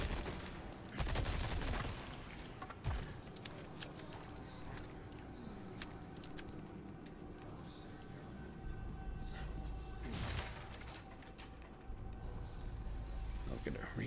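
Gunfire and scattered booms in Resident Evil 4 Remake on Hardcore difficulty, a few sharp shots and bursts spread across a noisy game scene, moderately loud with a voice talking at times.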